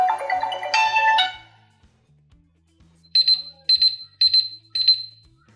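A phone alarm rings in short bursts that stop abruptly as the phone is flipped over to mute it, then a repeating electronic beep pattern sounds in four even pulses, with faint low clicks underneath.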